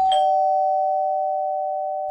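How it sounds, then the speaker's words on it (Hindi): A single electronic doorbell tone rings once, clear and close, then sustains and slowly fades out. "घर की डोरबेल बजी"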